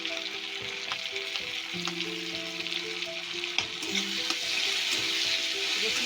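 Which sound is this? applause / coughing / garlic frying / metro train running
garlic frying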